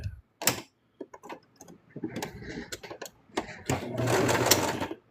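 A sewing machine runs in short, irregular stitching bursts on a plush toy's tongue, close by and fairly quiet, with soft ticking and handling noises between runs.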